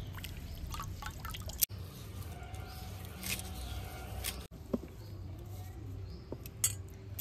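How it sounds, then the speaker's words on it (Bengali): False daisy leaves are washed by hand in water, with soft close dripping, trickling and light splashing, plus a few small clinks, all fairly quiet. "খুদে কেষ্ট পাতাটা ভালো করে এইভাবে ধুয়ে নেব।"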